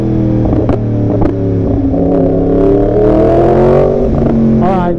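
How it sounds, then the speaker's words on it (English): Yamaha R1 motorcycle being ridden, its engine droning steadily and rising in pitch as it accelerates, loud and close, with wind buffeting and brief sharp knocks along the way. "I'm riding Daniel's R1 right now"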